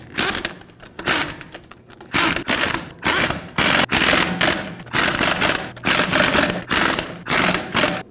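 Socket wrench ratcheting on lug nuts of a 2009-2014 Ford F-150 with a 21 mm socket, loud close bursts of rapid clicking repeated about a dozen times with short pauses between strokes.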